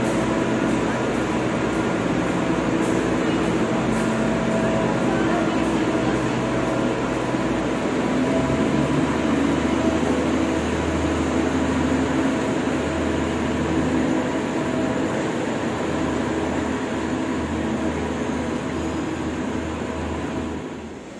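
Station waiting-area ambience at Surabaya Gubeng train station: a steady, even wash of hall hum and distant crowd murmur, with a low rumble joining partway through, continuous for the whole stretch.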